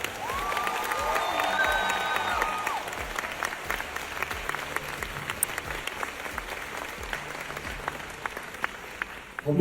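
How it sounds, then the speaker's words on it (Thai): An audience applauds and cheers for a man's wife at a Thai public statement, a sustained wash of clapping with some shouts, while a brief tonal sound rises early on before the clapping carries on alone to the end. "ปรบมือให้ภรรยาผมที่สู้มาได้ตลอดเลยนะ"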